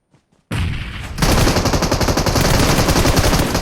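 Sustained burst of M249 machine gun fire in a shooter video game, loud and dense with rapid continuous shots after a brief quiet start and a short lead-in burst.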